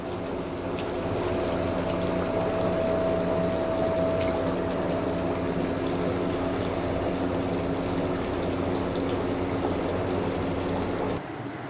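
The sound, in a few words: pouring hilsa fish curry into a dish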